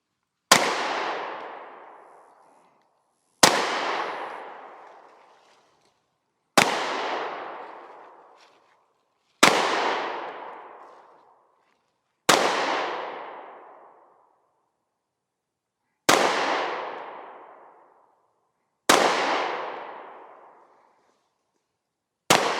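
Eight sharp, loud Sig Sauer P320 pistol shots ring out at a target range, evenly spaced about three seconds apart, each a crisp crack with a short decaying tail.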